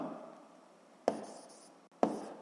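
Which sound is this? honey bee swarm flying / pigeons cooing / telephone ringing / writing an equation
writing an equation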